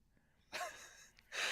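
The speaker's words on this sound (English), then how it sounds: "It's a sloth." A sloth gives two short, breathy gasping calls, faint and close, separated by a brief pause with quiet background between them.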